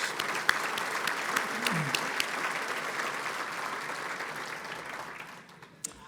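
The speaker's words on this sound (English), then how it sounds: "Let's have a round of applause for all of our sponsors." A conference audience at an annual real estate conference applauds its sponsors, a dense, steady wash of clapping from a large crowd that holds for several seconds and then fades out near the end.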